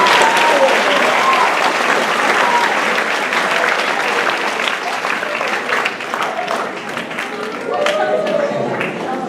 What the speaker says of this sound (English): Please give a round of applause for Dr.